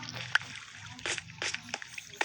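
A Minecraft player jumps into water to escape lava, making a series of soft splashes and sloshes with a faint background murmur.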